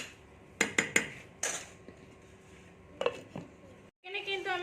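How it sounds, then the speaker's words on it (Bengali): A spoon clinks and scrapes against a pan while ivy gourd and potato curry is stirred: a few sharp metallic knocks in quick succession, then two more after a pause, over a quiet background before a closing noise. "মাঝে মাঝে কিন্তু আমি একটু নেড়ে নেবো যাতে বসে না যায়"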